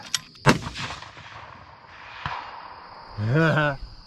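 A 25 Creedmoor rifle fires 134 grain Hornady ELD Match rounds at a steel plate, giving a sharp crack, then a faint distant ping of impact, with a short burst of talk near the end.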